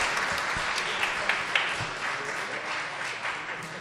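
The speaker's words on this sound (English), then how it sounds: "how about another round of applause?" A live studio audience applauds steadily throughout, dense continuous clapping at a fairly even level with a few sharper claps standing out near the middle, following a radio-style show.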